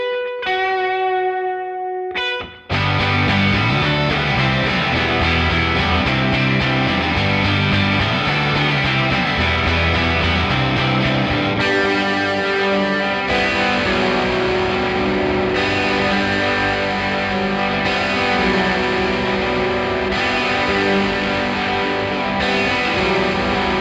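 Mixed electric guitars driven through a Decapitator saturation plugin blended in for a little drive, loud and distorted with chorus-like shimmer, playing chords and riffs continuously without talk after a brief clean opening.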